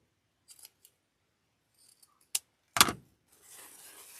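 Scissors cut pine sprigs for a snowman wreath with several crisp snips, a few faint and one loud close cut. A soft rustle of greenery follows in an otherwise quiet room.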